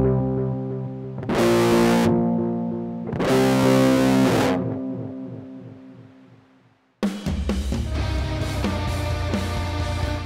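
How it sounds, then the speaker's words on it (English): Heavy distorted guitar chords through a HYDRA4X loop switcher ring out twice and decay through clean echoing delay repeats, then a thick distorted riff kicks in. "This should give us a pretty heavy distortion, but the delay trails will stay clean."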